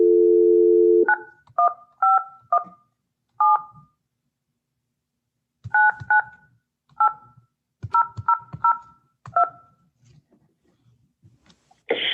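Telephone keypad tones: a steady dial tone cuts off, then comes a run of crisp, loud dual-pitch beeps in uneven groups, with brief pauses between clusters and a click at the end.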